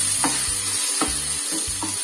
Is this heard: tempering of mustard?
yes